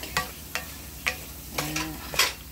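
Minced garlic frying in olive oil alongside roasted peanuts, with soft sizzling broken by several sharp scraping stirs at a steady pace, close and fairly quiet.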